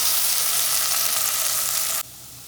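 Potatoes sizzle loudly in a hot pan with curry leaves, green chillies and onion, a dense steady crackling hiss close by that drops off sharply near the end.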